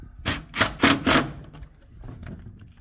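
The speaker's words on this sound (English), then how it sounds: "we're going to go in with our baby impact gun." Four quick, loud bursts from a small impact gun working on a bowling alley GSX pinsetter, spaced close together, then quieter clicks and rustling handling sounds.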